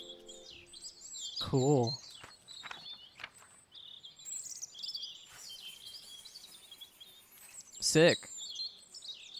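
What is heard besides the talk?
birds chirping in the video game Botany Manor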